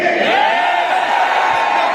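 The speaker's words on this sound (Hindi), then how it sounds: "एक बार जोरदार हूटिंग करके बताइए" A large audience at a Vestige award function in Thyagraj Stadium hoots and cheers on request, a loud, continuous roar of many voices with rising whoops riding over it throughout.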